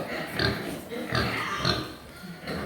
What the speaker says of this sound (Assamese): ইয়কচায়াৰ হয় এইটো, বৰ বিশাল প্ৰজাতিৰ গাহৰি একদম